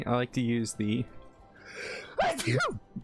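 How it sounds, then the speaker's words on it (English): A single loud sneeze from a nearby person, a sharp burst following a short stretch of talk, with more speech trailing right after. "Oh, that was a sneeze and a half."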